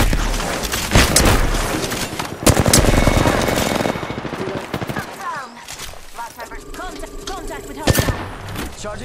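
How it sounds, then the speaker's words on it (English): Apex Legends gunfire comes in loud, rapid bursts of automatic shots and heavy booms, close and dense at first and then trailing into scattered shots, with game sounds and voice lines mixed in. "Listen up, I'm getting shot at."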